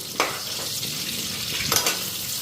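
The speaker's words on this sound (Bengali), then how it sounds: "পটল ভাজাগুলি উল্টাইয়া দিই," Slices of pointed gourd fry in a pan with a loud, continuous close sizzle, broken by two brief clattering bursts as the pieces are turned.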